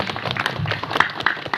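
A short burst of audience clapping at an Indonesian mosque gathering, scattered hand claps at close range, uneven and modest in size, lasting only a moment.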